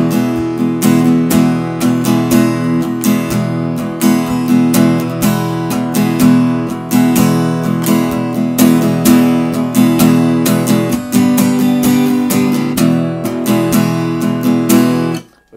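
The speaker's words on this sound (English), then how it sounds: "When you played faster, it would sound something like this." An acoustic guitar strummed quickly in a steady down-up pattern, loud and close, a continuous run of bright chord strokes with no talking until it stops at the end.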